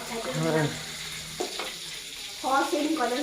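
Sausages fry in a pan with a steady, hissing sizzle that runs through the whole stretch, partly masked by people talking nearby.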